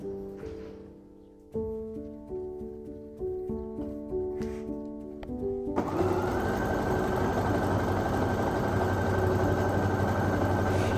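A sewing machine at home starts with a few stuttering, pulsing hums, then runs into a steady, continuous whirring drone that holds to the end.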